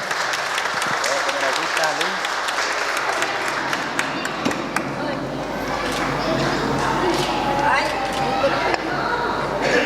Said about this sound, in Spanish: Le vamos a dar un fuerte aplauso a Aline hoy por celebrar.